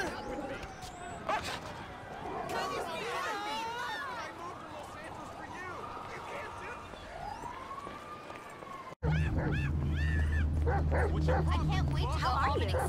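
A dog barks and yips excitedly at the beach, sharp repeated cries close by, while people talk over it and a loud steady noise takes over near the end.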